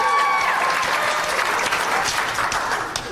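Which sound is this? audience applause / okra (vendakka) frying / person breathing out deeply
audience applause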